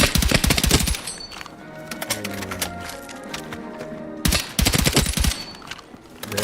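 Automatic weapon fire in the video game Battlefield 6, two loud rapid bursts at the start and end with a quieter gap between, no talk over it.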